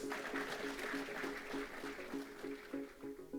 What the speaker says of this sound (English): And a round of applause for Mr.